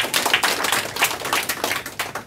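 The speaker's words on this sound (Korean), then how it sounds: "우리 감사의 큰 박수 부탁드리겠습니다" Audience at a Korean Atomy marketing seminar applauds a presenter: a dense, steady patter of many hands clapping at close range, fairly loud throughout with no talk over it.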